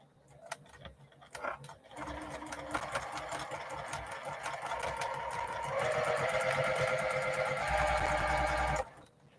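Sewing machine running steadily during free-motion quilting of feathers, a continuous rapid mechanical stitching rattle that grows louder and faster toward the end before stopping abruptly; no talk.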